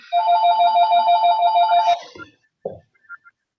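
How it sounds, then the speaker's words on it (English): A telephone bell rings loudly in a steady rapid trill for about two seconds, then stops, followed by a couple of faint knocks and small sounds in an otherwise quiet room. "The phone."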